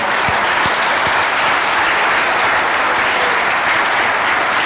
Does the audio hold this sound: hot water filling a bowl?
no